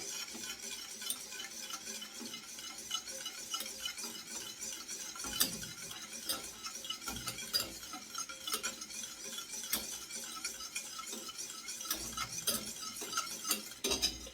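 Cornmeal porridge is whisked in a pot, giving a quiet, continuous scraping and stirring with scattered light metallic clinks and taps against the pot. There is no talking.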